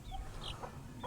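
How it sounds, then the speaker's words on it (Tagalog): Chickens with newly hatched chicks on a farm in San Jose del Monte, Bulacan, give soft clucks and brief high peeps, faint and close, over a low rural background. "Oh, ayan oh, mga bagong pasisiw namin dyan oh."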